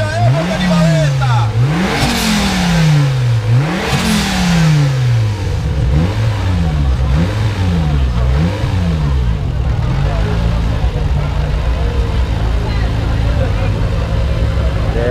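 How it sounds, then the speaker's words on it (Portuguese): A Volkswagen Jetta with a five-cylinder turbo engine and manual gearbox revs hard and close, rising and falling in about seven quick throttle blips before settling into a steady drone. "Acelera aí, Guilho!"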